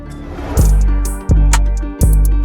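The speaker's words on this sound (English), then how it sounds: "Also gonna add an effects transition to lead into the hook" An FL Studio trap beat in a Spanish-guitar style leads into the hook with an effects transition: three heavy booming hits roughly every 0.7 seconds, each with a bright crack on top, ringing out over a sustained tonal bed, loud and alone.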